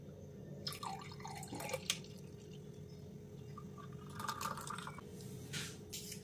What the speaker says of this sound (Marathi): आता यात आपण कलिंगडाचा ज्यूस घालूया।